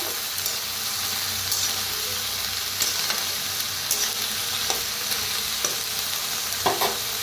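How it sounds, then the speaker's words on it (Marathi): Mixed winter vegetables roast in a pan over a village wood-fired chulha, giving a steady close sizzle with soft stirring scrapes and a few sharper clicks, no voices. "त्याला भाजून घेऊया."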